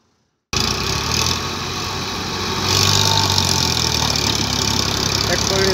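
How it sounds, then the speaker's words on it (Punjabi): A tractor engine works hard while pulling out as its wheels slip, a loud continuous drone that starts abruptly and rises in strain partway through, with voices faintly present. "ਟਰੈਕਟਰ ਕੱਟ ਰਿਹਾ ਸਲਿੱਪਾਂ ਪਰ ਟਰੈਕਟਰ ਨਿਕਲ ਹੀ ਗਿਆ"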